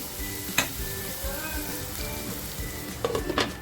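Methi leaves and dried prawns as a bhaji simmer and sizzle over a low flame, a continuous soft frying crackle with a few louder stirring clatters near the end, no talk.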